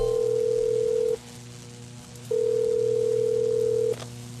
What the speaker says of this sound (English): You have dialed emergency services.